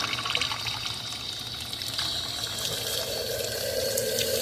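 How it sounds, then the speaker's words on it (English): Water gushes steadily from a broken garden hose spigot outdoors, a continuous close hiss and splash that runs unbroken and fairly even in loudness the whole time. "it's a little bit flooded right now because the water hose spigot is running."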